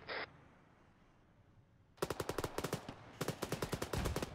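Automatic gunfire in the video game Arma 3 rattles out in two rapid bursts of loud, evenly spaced shots after a quiet stretch, with a short click at the start.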